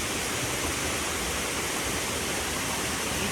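A mountain spring waterfall roars steadily and loudly close by, a dense, unbroken rush of falling water with no pauses from start to finish.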